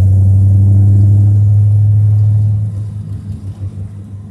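A Chevrolet C4 Corvette on a road test, its engine giving a loud, steady low drone that eases off into an uneven rumble as it cruises along.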